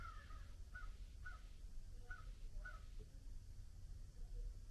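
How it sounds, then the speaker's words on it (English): Crows caw outdoors where they gather on the ground and in the trees, about five faint, evenly spaced harsh calls from a distance over a steady background hiss. "apparently get stared at by ravens, crows, I don't know, because they're everywhere on the ground for one"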